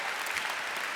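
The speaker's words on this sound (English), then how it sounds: "Give yourselves a big round of applause." Graduates applaud at a Marquette University commencement ceremony, a steady wash of many hands clapping, dense and even for the whole second with no voices on top.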